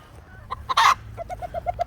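A hen, upset after being moved from her spot, clucks in a short series of sharp, rhythmic notes, near and fairly loud, with one louder squawk before the steady run of clucks in an outdoor farm setting.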